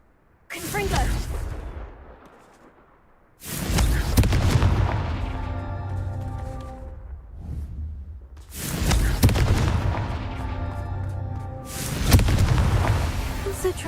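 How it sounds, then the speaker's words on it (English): Fiery Confringo blast spells cast in the Hogwarts Legacy video game, three loud booming bursts a few seconds apart, each trailing into a long rumbling decay with magical tonal shimmer. "Confringo!"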